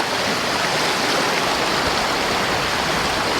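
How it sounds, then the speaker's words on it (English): Strong moving river water churns through an eddy, a dense, continuous rushing roar close by with no pauses or voices. "we got a lot of strong moving water here"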